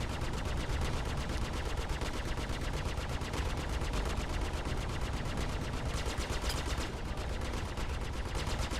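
Allied ship gunfire in the space game Star Citizen: rapid, unbroken automatic bursts chattering loudly and steadily for the whole stretch, with no talk over them.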